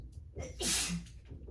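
One sneeze stands out near the microphone, preceded by a quick intake of breath, against a low background hum.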